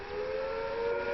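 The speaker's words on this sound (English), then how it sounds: "If an attack is expected, the sirens will sound a rising and falling note like this." Civil defense attack warning siren from the game Fallout London, a sustained steady tone held at moderate loudness through the brief stretch, with no speech over it.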